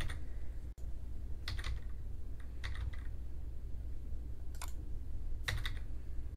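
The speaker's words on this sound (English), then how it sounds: "press the D key twice to delete the current cell" Keystrokes on a computer keyboard arrive in a few short clustered bursts of clicks over a steady background hum, close and moderately loud, with no talking.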